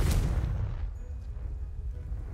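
The Confringo blasting curse in Hogwarts Legacy detonates in a loud, close explosive boom that quickly decays into a rumbling tail.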